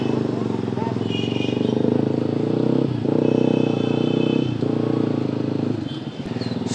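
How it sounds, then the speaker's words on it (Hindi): A motorbike is wheeled out and rumbles with a steady low engine drone that continues throughout, with voices talking over it. "अंकल मेरा बाइक निकालने में मदद करते हुए"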